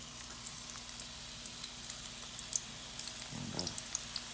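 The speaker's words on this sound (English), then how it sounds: "I kind of just put them in like one at a time at first, kind of get some of the sizzle out of the oil" Potatoes drop one at a time into hot frying oil, giving a quiet, continuous sizzle with scattered tiny pops and crackles, plus a brief louder bubbling surge near the end.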